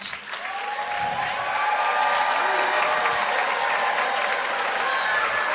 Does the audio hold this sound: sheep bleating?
no